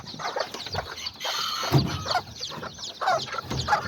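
A white mother hen with her newly hatched chicks clucks in a busy, close run of short calls with some wing movement, and no talk over it.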